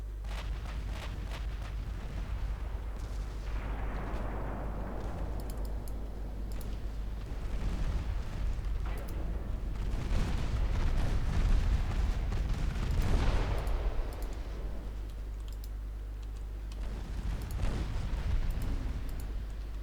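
Secondary guns of a warship firing in a naval battle video game, a dense, continuous rumble of booms and blasts with heavier swells of explosions rising and fading throughout.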